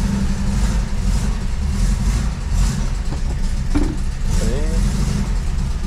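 A 1974 Volkswagen Brasília, abandoned for 30 years and low on fuel, idles roughly with a low, uneven rumble throughout, while someone talks over it.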